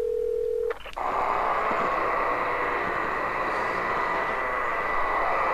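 A telephone in the Silent Hill 4 video game gives a short tone and then a click before a steady, loud, buzzy ringing or line tone that carries on unbroken to the end.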